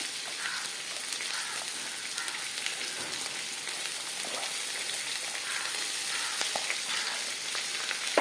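Onions frying in a pan for a plantain curry make a faint, even, continuous hiss with occasional small crackles and no talk.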